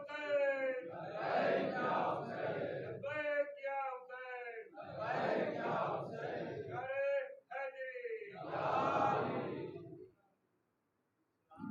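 Crowd at a religious gathering commemorating Karbala and Husayn, chanting slogans in loud call-and-response bursts, several surges of massed voices with short pauses between, ending in brief silence.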